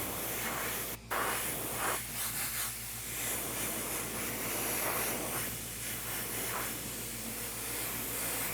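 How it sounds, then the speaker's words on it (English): Steady aerosol spray hiss while airbrushing or spray painting a 1/4 scale Aqua Man figure, continuous and close over a low background hum, with one brief sharp burst near the start. "I'm spraying away from the blue."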